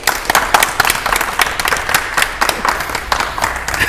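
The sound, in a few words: audience applause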